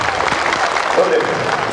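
Arena crowd at the 1995 World Weightlifting Championships, 108 kg class, breaking into applause and cheering after a snatch attempt: a steady, dense wash of clapping and voices, loud and continuous throughout, with commentary talk mixed in.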